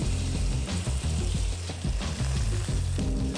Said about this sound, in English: fry each side of your steak for 1 minute